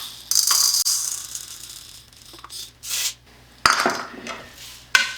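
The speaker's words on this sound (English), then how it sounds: "So go with 2 cups of raw split peas." Dry split peas are poured into an Instant Pot in a long rattling, hissing stream, then a few shorter pours and scrapes follow. Each is close and moderately loud, with no voices.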